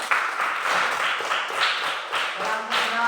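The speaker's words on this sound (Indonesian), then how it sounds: "tepuk tangan untuk kelompok 3" Classroom applause for a student group, several short bursts of close clapping and tapping with quick pauses between them.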